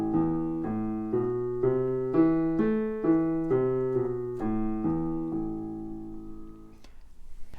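Piano melody played a bit faster, a run of distinct struck notes in steady rhythm rising and falling, ending on a held note that rings out, close and clear without talking.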